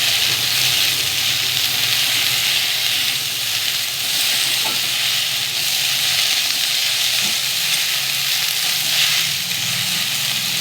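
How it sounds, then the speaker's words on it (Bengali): Okra frying in oil with no spices added yet, a steady loud sizzle and hiss running without a break, with faint stirring scrapes now and then. "ঢেঁড়সটাকে আমি একটু ভাজতে থাকবো।"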